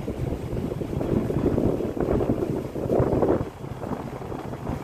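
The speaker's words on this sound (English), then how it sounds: "here's your evaporator fan. As you can see, it's running right now." An EC evaporator fan inside a Vertiv Liebert PDX precision cooling unit runs steadily, producing a loud, close, rushing airflow roar with a low rumble that swells and dips slightly.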